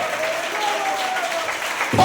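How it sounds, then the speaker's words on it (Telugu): A church congregation claps and applauds, a dense continuous patter of many hands close by, with a voice speaking over it. "చప్పట్లు కొడుతూ రిసీవ్ చేసుకోండి."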